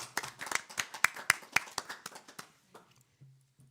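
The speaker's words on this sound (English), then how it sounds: "Can we give them a round of applause?" Scattered applause at a city council meeting: a small group of hands clapping in uneven, sparse bursts for about two and a half seconds, then tapering to a few isolated claps with quiet room hum.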